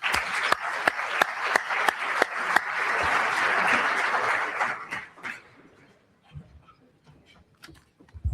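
Conference audience at a commercial real estate business forum applauding a speaker being welcomed, dense sustained clapping with sharp individual claps standing out, fading out after about five seconds into a quiet room with scattered small sounds.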